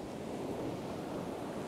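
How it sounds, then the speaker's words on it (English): Ocean waves washing onto a gloomy beach, a steady, broad rushing wash with no break, moderately loud with some wind on the microphone. "Catch it as the waves come in."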